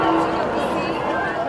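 Vast crowd of about 150,000 people packed into St. Peter's Square, a loud, steady wash of murmuring and cheering voices heard as one dense babble, with a narrator talking over it.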